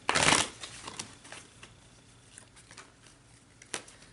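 Tarot cards are shuffled up close, with a loud riffling burst at the start, then softer scattered flicks and taps and one sharp snap near the end, all fairly quiet.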